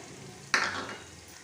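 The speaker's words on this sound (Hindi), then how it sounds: "कटे हुए टमाटर, नमक सब डालकर अच्छी तरह चलाएंगे।" Sudden sizzle as ground spices, chopped tomatoes and salt hit hot oil and are stirred in a pan for aloo matar veg pulao, a sharp hiss fading over about half a second.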